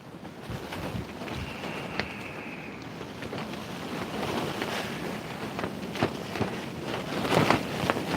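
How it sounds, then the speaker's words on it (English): Gusty wind rumbles and buffets the microphone, with low roaring surges and a few sharp bumps, building stronger toward the end. "I don't know whether you can hear this wind because of my mic"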